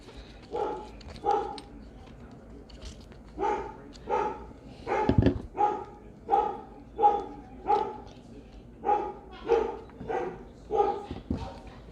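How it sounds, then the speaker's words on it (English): A playful pet dog barks in a steady run of sharp, fairly close woofs, roughly one or two per second for the whole stretch, with a louder burst near the middle. "if you can hear my dog trying to play."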